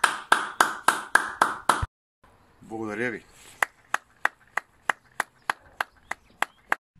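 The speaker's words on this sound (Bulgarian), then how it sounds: "Аплодисменти!" Footballers give a tribute to medical workers with rhythmic, evenly spaced hand claps: a quick run of loud claps, a short spoken thanks, then a steady series of crisp claps.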